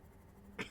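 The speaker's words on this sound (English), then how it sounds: "sorry for the cough" A single short cough from a man playing Subnautica, one quick burst near the end over a low hum of background game sound, with no talk.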